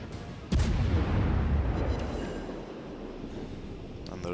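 Heavy warship guns fire at a North Carolina battleship in World of Warships, a single loud, deep boom that rolls off into a long fading rumble.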